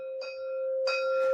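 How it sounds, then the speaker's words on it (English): A 528 hertz chime rings with a steady, sustained tone. It is struck twice, and the second strike adds bright shimmering overtones as the sound swells close by and loud, with no voices. "Similarly, I have a chime."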